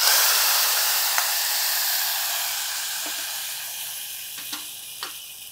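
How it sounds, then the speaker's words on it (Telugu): Hot oil from a curry-leaf tempering sizzles and hisses continuously as it goes into a raw banana and chana dal curry, fading slowly, with a few faint clinks of a spoon against a pan. "పోపు వేగిపోయింది దీన్ని తీసి"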